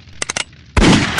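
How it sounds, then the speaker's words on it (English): Gunfire in a shooting scene from the film Deadpool 2: three quick sharp shots, a short pause, then a loud sustained blast of firing that fills the rest of the moment. "That's why I can go into shooting people that hurt him like this."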